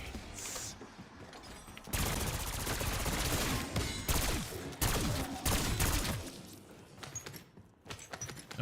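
Rapid gunfire from a weapon in a video game, a dense stretch of sustained shots with a few scattered bursts before and after, loud and close.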